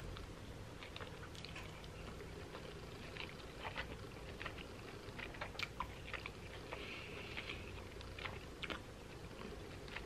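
Close, quiet mouth noises from someone chewing Korean jjapaguri noodles, with soft squishy bites and small crunchy clicks scattered over a faint background hiss.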